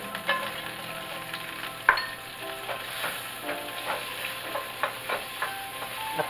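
Onions sautéing in melted butter in a pan for sautéed spinach with mushrooms, a continuous soft sizzle broken by light stirring clicks and one sharp utensil tap.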